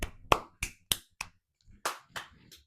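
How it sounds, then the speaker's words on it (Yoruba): A few sharp, close claps ring out one by one in an irregular series, roughly eight separate slaps, offered in a classroom to praise a student learning the Yoruba alphabet. "Pàtẹ́wọ́ fún rẹ."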